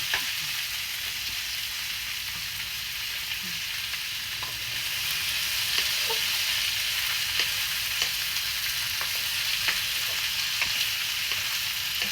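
Vegetables for a Jaffna-style long beans curry frying in a pan, a continuous crackling sizzle with light stirring taps, steady and close, growing slightly louder midway, with no speech.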